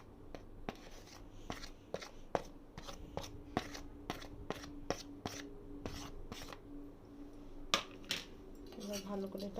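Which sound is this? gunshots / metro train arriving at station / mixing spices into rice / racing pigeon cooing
mixing spices into rice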